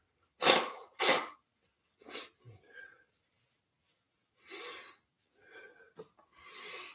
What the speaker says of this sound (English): I'll probably have to blow my nose a few times.